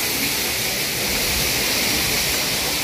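Water flows steadily near Kachargarh cave in Darrekasa, Maharashtra, a loud continuous rushing wash with no pauses and no voices over it.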